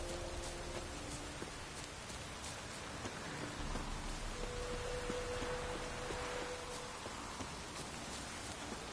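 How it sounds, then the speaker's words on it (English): Steady rain falls in The Witcher, a continuous even patter of drops on surfaces filling the scene at moderate level, with faint game tones in the background and no talking. "It's raining, Geralt."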